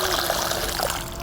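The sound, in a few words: pouring water into a planting hole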